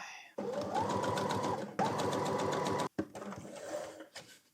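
A sewing machine runs in steady bursts of rapid stitching, pausing briefly between runs, close and fairly loud.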